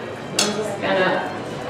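Boiled noodles tossed with a little oil in a bowl, with a brief clink of a utensil against the bowl and soft, close stirring and scraping.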